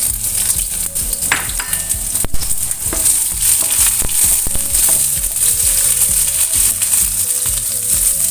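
Ginger slices, shallot and garlic sizzle steadily in a hot pan, a dense continuous frying hiss broken by scattered clicks of stirring, close and without talk.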